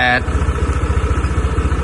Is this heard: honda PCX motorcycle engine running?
yes